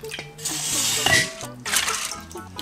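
Meat is rinsed by hand in water, with splashing, sloshing and dripping in bursts that stop and start, close by and fairly loud, interrupted by short gaps.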